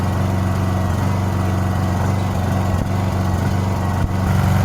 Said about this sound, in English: here we're going to be shutting this off and doing the regular, normal, long storage shutdown